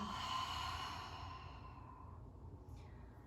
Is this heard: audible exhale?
yes